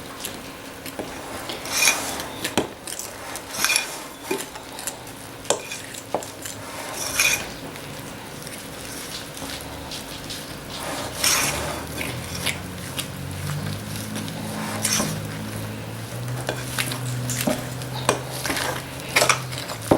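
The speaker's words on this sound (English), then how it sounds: "let's just mix all this up together" Scone dough ingredients being mixed in a bowl, with irregular scraping and clinking of a utensil against the bowl, rubbing strokes close up, and a low hum entering in the second half.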